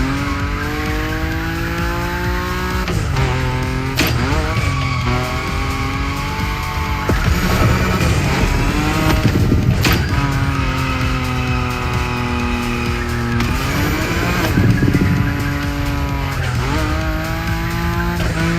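A Nissan Nismo drifts at high speed in the racing game The Crew Motorfest, its engine revving and rising in pitch through long slides as the tires squeal loudly and continuously, with shifts and brief lifts between bursts.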